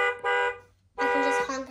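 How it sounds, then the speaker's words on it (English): A toy ride-on power wheels car sounds its electronic horn twice, a short tonal beep followed by a slightly longer one after a brief pause, close and clear. "I can just honk at people all day."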